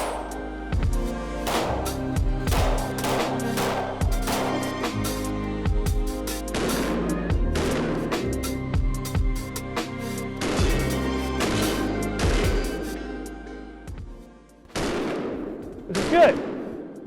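An FN 509 pistol fires a rapid series of sharp, loud shots outdoors on wet, rocky, mossy ground, with uneven spacing between bursts and short pauses, a few final shots near the end.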